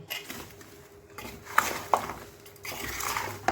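Mango pickle mixture being stirred slowly in a pot, giving soft scraping and clinking of a spoon against the metal, with a few sharper taps standing out in a quiet kitchen.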